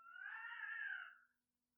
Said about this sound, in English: These cats are going crazy.